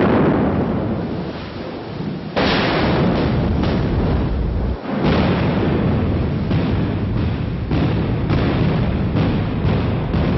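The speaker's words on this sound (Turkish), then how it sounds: "bu füzeler hedefin üstünde patlıyorlar, içindeki bombalar da etrafa yayılıp infilak ediyor ve ortalığı cehenneme çeviriyorlar" Orkan rockets bursting over a target and scattering cluster bombs, a sustained rumble of heavy blasts with repeated booms and sharp bursts, loud and close, with no talk.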